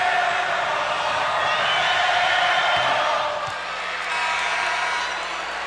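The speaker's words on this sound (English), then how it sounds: "Crowd calls air ball." Arena crowd noise at an NBA game between the Detroit Pistons and Orlando Magic in 1989, a dense, loud roar of many voices chanting and jeering, steady throughout with slight swells, no clear announcer talk over it.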